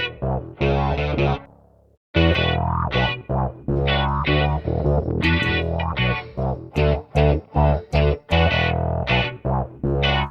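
A music mix with its drums removed by ReBeat separation software plays alone: dense, sustained tonal instruments and chords with choppy, pulsing phrasing and a brief drop in the middle, loud and processed-sounding.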